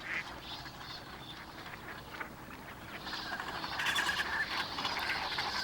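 Migratory birds gather on Haemicheon, a shallow wetland stream near Ganwol Lake in Seosan in winter, with faint, distant duck-like quacks and calls over soft background noise, growing busier toward the end.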